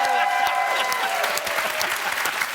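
A studio audience applauds loudly in a dense, steady burst of clapping that fills the whole short stretch, with a faint voice underneath.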